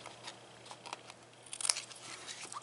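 Scissors trim a paper overhang on a Cricut-made Halloween gable box, several faint close snips and crinkles scattered through a quiet room.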